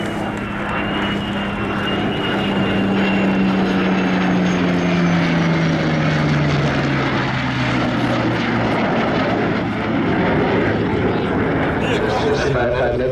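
A loud F-35A fighter jet roars past in a flyby at an air show, its engine tone sliding downward as it passes, with a crowd murmuring and talking underneath.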